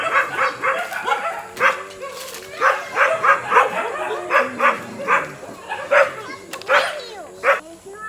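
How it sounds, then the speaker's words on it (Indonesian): Several dogs bark and yip repeatedly at a sun bear sanctuary, loud, close and overlapping in an irregular rhythm, with some whimpering between barks. "Ini guguk-guguk."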